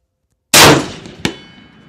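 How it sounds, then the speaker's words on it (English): A 175-grain 7mm Nosler AccuBond bullet at about 3350 feet per second strikes a steel gong at long range, giving a sharp metallic clang that rings and decays, followed by a second fainter distant crack about three-quarters of a second later. "Centers the gong."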